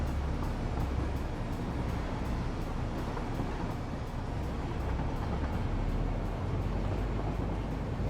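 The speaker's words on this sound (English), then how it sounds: "we just ride the train up into the red forest" A train in Satisfactory rolling up into the red forest on a bauxite line, heard as a steady, even mechanical rumble and rail drone that holds without a break.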